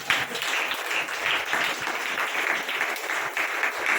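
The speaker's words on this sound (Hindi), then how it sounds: "ताली बजाओ" A church congregation claps together during a sermon, a dense, steady patter of many hands that stays at an even level for several seconds without pause.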